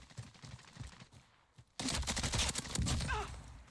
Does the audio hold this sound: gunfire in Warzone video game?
yes